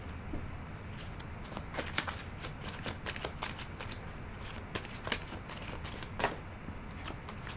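A deck of cards is shuffled in a card reading, giving a steady riffling patter with repeated sharp bursts of flicking cards, close and fairly quiet, with no voice.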